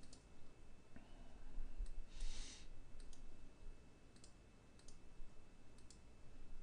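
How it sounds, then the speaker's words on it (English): Computer keyboard keys click sparsely during data analysis for a kinetic friction lab, with a few soft, separate taps scattered over several seconds in a quiet room and no talking. "I'll go ahead and just use the keyboard to make some adjustments here"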